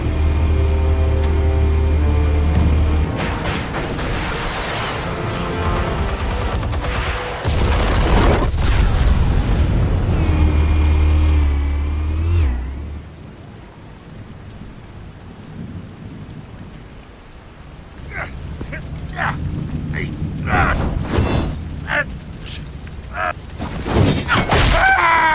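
Heavy booming explosions in Batman: The Telltale Series, Episode 1, loud rumbling bursts with a steady rain-like hiss, dropping to quieter crackles before more sharp bangs near the end.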